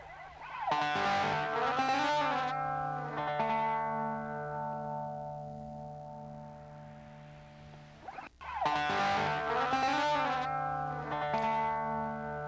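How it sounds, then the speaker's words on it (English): An instrumental track plays quietly: sparse, reverberant electric guitar phrases ring out and fade over a soft hiss-like filtered wash, with a long decaying gap before the figure returns. "Under this guitar, it kind of sounds like someone's playing with like a white noise filter."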